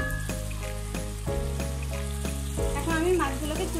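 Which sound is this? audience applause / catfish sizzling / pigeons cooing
catfish sizzling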